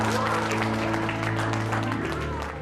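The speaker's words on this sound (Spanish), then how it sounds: "Un aplauso." A crowd breaks into applause, a dense, continuous wash of clapping over steady background music tones, fading slightly at the end.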